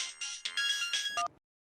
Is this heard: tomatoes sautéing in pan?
no